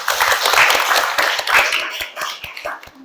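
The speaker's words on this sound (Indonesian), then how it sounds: "Tepuk tangan untuk kita semuanya." Classroom students clapping together at the end of a math lesson, a quick burst of scattered hand claps that thins out over about three seconds.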